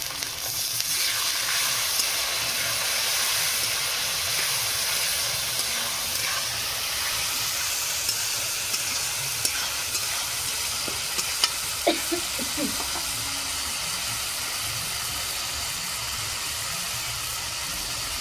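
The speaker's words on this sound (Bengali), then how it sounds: "মশলাটা তলায় বসে যাচ্ছে, একটু জল দিচ্ছি।" Water splashed into frying spice masala with chilli powder for Kashmiri alur dom, followed by steady stirring: a continuous close sizzle and hiss with scattered spoon scrapes and clicks, and no talking.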